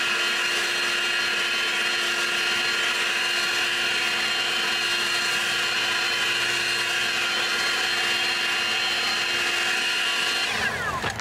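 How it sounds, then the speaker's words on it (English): A 650 CFM cordless leaf blower roars continuously at close range while clearing wet leaves off a workshop floor, a loud steady rushing whine that holds for several seconds before spinning down at the end; no one speaks. "we can come in here and blow these away"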